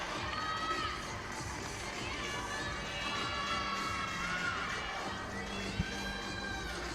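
Teammates at a women's college gymnastics meet, Iowa at Maryland, cheer loudly after a fall on the uneven bars. Continuous shouting and whooping from a crowd, with high voices carrying on top throughout.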